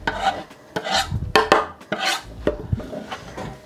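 A large 10 kg batch of chicken fried rice with mixed vegetables and coriander being stirred: rhythmic scraping and rasping strokes against a big pot, close and fairly loud, repeating every half second or so with no talk.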